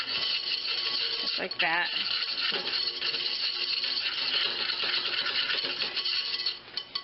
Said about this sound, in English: I'm just going to gently whisk this together real quick to get all those lumps of the sugar out of it